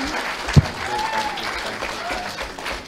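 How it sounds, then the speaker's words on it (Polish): An audience at a lecture in Warsaw, Poland claps to welcome speaker Max Spiers, a steady patter of applause filling the room. "Proszę wielkie brawa dla naszego super żołnierza."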